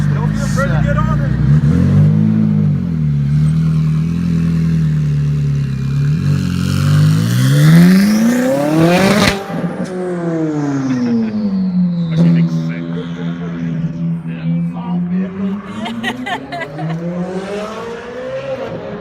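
A twin-turbo widebody Ferrari 458 accelerates hard nearby, its engine climbing through rising revs with a sharp shift, then pulling again in sweeping, loud waves of pitch.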